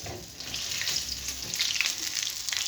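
Mirchi bada chili fritters fry in a kadhai of oil, giving a steady bright crackling sizzle that swells and fades slightly, heard alone without speech.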